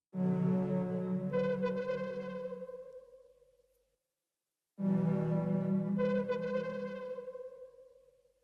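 Two sustained synth chords ring out one after another, each swelling with added higher tones before fading, separated by a short silence.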